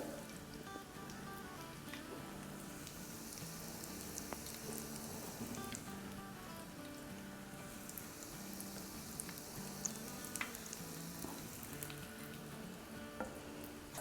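Dahi bhalay fritters frying in a pan, giving a dense, continuous crackling sizzle with scattered small pops, steady and close throughout with no voices.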